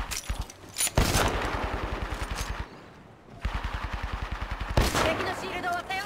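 Rapid automatic gunfire in the game Apex Legends, two long sustained bursts of evenly spaced shots separated by a short pause, with further shots and game effects around them.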